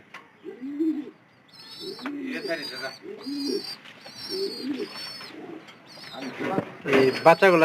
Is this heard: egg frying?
no